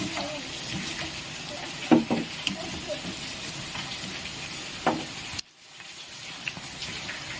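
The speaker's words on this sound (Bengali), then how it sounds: "আর সেটা আমি খুব ভালো করে ভেজে নেব।" Egg chops deep-fry in hot oil with a bubbling hiss that continues throughout, marked by a few louder bursts. The sound briefly drops away near the end, then returns.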